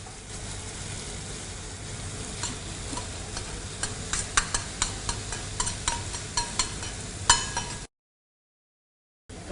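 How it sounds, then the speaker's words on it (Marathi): Cooked rice stirred into a boiling milk and curd mixture gives a bubbling, simmering hiss under repeated rhythmic scrapes and clinks of a spoon against the pot, ending in abrupt silence. "याला थोडा टाइम आपण याला हलवत राहूया"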